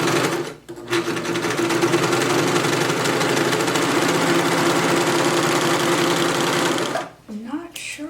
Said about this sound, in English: I'm going to be using my 4 thread on the serger, and let's get that sewn